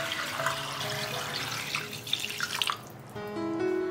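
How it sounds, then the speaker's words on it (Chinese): Water from a tap runs and splashes into a clay soup pot holding washed stems and a little dried longan, a steady broadband pour that briefly eases and then resumes with a brighter, ringing fill. "洗好了放到砂锅里，加入少许桂圆，再加入适量清水"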